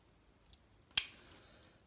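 Small scissors on a Victorinox Pioneer X Damast pocket knife flicking open: a faint tick, then one crisp metallic snap with a short ringing tail, close and quiet, in a silent room.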